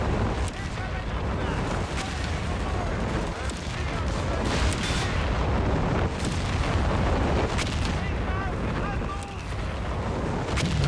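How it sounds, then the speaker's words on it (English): A Black Dragon artillery barrage in Company of Heroes 3 rumbles continuously, with dense overlapping booms and distant shell blasts over a steady loud battlefield roar. "Black Dragon artillery barrage"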